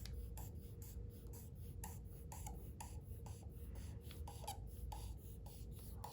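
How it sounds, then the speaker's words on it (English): A pen scratches a line across paper in steady, rhythmic strokes, faint and close, with no voices. "Draw some type of a line to make a frame."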